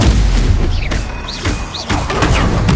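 Explosive spell blasts boom in the Hogwarts Legacy video game, loud low-heavy bursts over dense rumbling game noise, with several impacts in quick succession.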